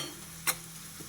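A tempering with asafoetida fries in a pan for a ridge gourd dal, giving a faint, steady sizzle with a single brief click partway through.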